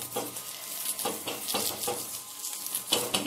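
An egg omelette sizzles in oil in a pan while being pressed down and cooked, with soft frying hiss and repeated light scraping and tapping of a utensil against the pan, no voices.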